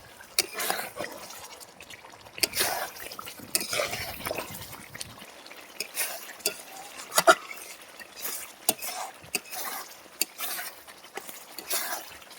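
A little water poured into fish biryani masala made with pangas fish, turmeric, chilli powder and yogurt, giving soft trickles and drips with scattered light clinks of a pot or utensil, close and quiet.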